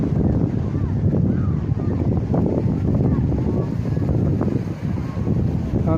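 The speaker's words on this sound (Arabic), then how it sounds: "واخا كاين شويه الريح" Wind buffets the microphone in a strong, continuous rumbling roar at a beach in Safi, with no pauses across the stretch.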